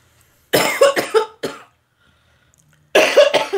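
Several sharp coughs in two bursts, a quick cluster of three or four harsh coughs, a pause, then two more close to the mic in an indoor home setting.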